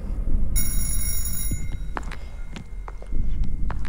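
A phone rings in a mobile video game, a bright tonal electronic ring starting abruptly over steady footsteps and background rumble, then cutting off partway through.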